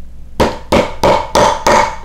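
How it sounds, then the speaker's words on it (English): Five sharp, evenly spaced hammer blows pound rivets into a leather IWB holster, each strike loud and close with a short ringing decay, heard alone without any talk. "Pound down your rivets"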